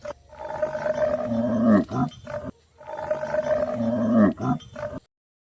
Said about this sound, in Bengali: দন্তস্বয় সিংহ রাগে কেশর নাড়ে